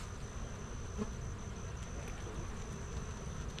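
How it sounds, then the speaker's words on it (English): Honey bee workers buzz around a hive during an October inspection, a continuous faint drone of many insects over soft rustling noise, steady throughout with no talk. "these bees are some workers"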